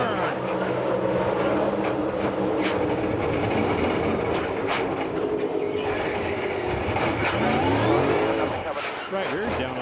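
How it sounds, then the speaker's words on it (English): NASCAR stock cars roar past at racing speed, a dense loud engine drone with rising and falling passes, as one car is turned in a crash, under a race commentator's voice. "Oh, Logano gets turned."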